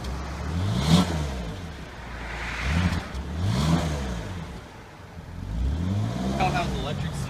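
A 2003 BMW 325i's exhaust swells through three separate revs, each engine note climbing and falling back, fairly close and moderately loud.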